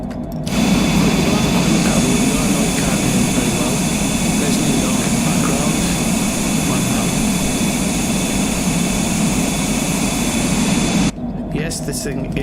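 An airplane engine drones steadily during a climb in a flight simulator game, a loud continuous roar with a constant hum that stops abruptly near the end, with voices talking over it.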